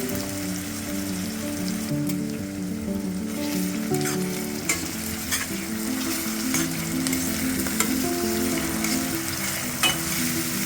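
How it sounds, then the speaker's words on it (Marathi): Onion frying in a pan with bay leaf for pav bhaji, a loud continuous sizzle broken by repeated scraping strokes of a spoon stirring. "आता याच्यानंतर कांदा घाल. हलवून टाक, हळू टाक."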